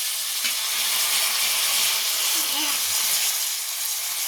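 Onions sautéing in a pan for a home-style dum biryani give a steady, soft sizzling hiss throughout, with faint stirring scrapes underneath.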